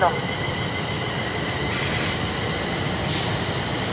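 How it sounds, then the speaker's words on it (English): Class 350 electric multiple unit approaching a platform at Milton Keynes Central on the West Coast Main Line, a continuous rumble of rolling wheels with brief high squeals of wheel on rail, heard close by amid station ambience. "The train now approaching platform 4. 350 107 is on the front."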